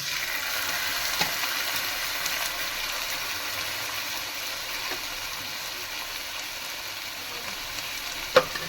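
Potatoes and onions fry in a pan with ground cumin and ginger paste for a Bengali fish curry, giving a steady close sizzle throughout, with a few faint clinks of a utensil stirring.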